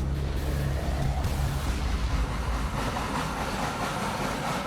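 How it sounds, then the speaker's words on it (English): Australian rack railway train entering the toothed rack between the rails, a loud continuous rumble of wheels and machinery with grinding, rattling texture that stays dense and close throughout. "the train hits and locks into what's called the rack"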